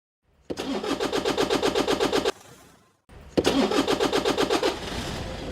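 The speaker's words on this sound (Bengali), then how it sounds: "ইগনিশন সুইচ চেপে অথবা চাবি ঘুরিয়ে গাড়ির ইঞ্জিনকে স্টার্ট করতে ইঞ্জিন স্টার্টিং সিস্টেম ব্যবহৃত হয়" A car engine cranks with a rapid rhythmic chugging, cuts off, then cranks again in a second loud, close attempt that settles into a steady running hum.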